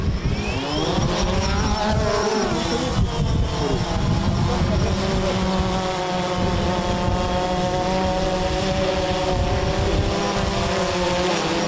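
Locally built military drones fly over a training ground, a loud, continuous motor-and-propeller whine whose pitch slides up and down as they manoeuvre.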